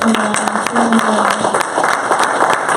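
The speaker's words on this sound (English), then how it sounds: "big round of applause to Jahmal, to Abdullah, Ray" An audience claps and applauds at a community event, a steady patter of many hands over a few seconds with a faint voice mixed in.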